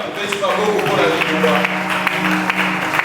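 Church congregation applauding during a sermon, steady dense clapping mixed with cheering voices and talk throughout.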